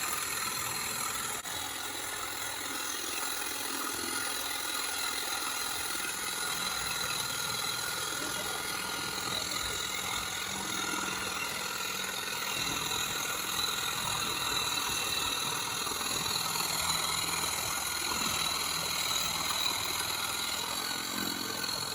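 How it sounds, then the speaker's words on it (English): A Ryobi Sawzall reciprocating saw cuts steadily through a pumpkin, a continuous buzzing mechanical drone that stays loud and even for the whole stretch with no talking. "So we're gonna go ahead and try and carve this pumpkin with our Sawzall"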